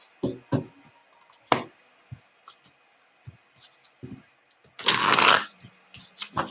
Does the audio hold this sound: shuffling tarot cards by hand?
yes